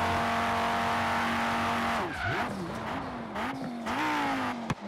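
Five-cylinder Audi RS3 in the racing game Forza Horizon 3, a steady high-speed engine drone, then hard braking with squealing tires and the engine note dropping and surging through downshifts, ending with a sharp knock.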